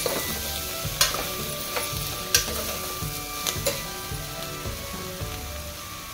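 Ridge gourd pieces frying in a pan are stirred, with a steady sizzle under occasional scraping and clinking strokes of the spoon at irregular intervals, close and with no talk.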